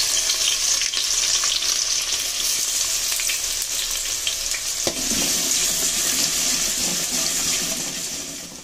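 Onion frying in hot peanut oil with cumin gives a steady, loud sizzle that fills the whole clip, with a brief stirring clatter near the middle and no talking.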